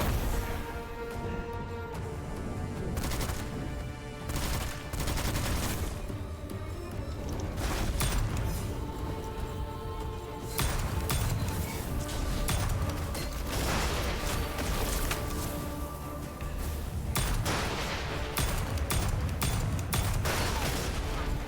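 Weapon fire in Witchfire comes as a dense, loud run of repeated sharp bangs and mechanical clatter, sustained almost without pause across the stretch with no speech over it.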